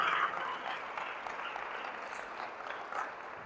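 A church congregation gives a sustained round of applause, a dense, even wash of clapping at a moderate distance with no voices over it.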